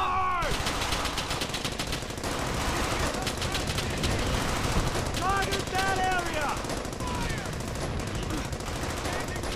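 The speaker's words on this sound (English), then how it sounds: "We got another machine gun that's right there." Loud, dense bursts of automatic machine gun fire from Brothers In Arms: Hell's Highway roar steadily throughout, mixed with scattered gunshots, battle noise and shouted voices in a wartime combat scene.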